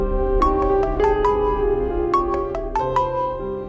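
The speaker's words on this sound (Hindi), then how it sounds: "बीबी साहबा का बार बार फोन आ रहा है मुझे।" A mobile phone ringtone plays alone, a bright electronic melody of short repeated tonal notes in two quick phrases, clear and close.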